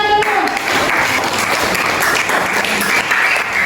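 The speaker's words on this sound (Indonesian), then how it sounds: "Ya, tepuk tangan dulu." Applause from a classroom of students during a lesson on anecdote texts, a sustained dense wash of clapping lasting the whole stretch, fairly loud and close, with a brief voice at the very start.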